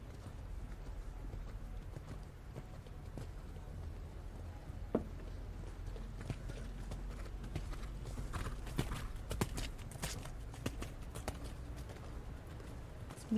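Horse hooves cantering at a dressage event in a junior eventing championship arena, a steady rolling clip-clop under a constant soft crowd and ambient hum, with no talk.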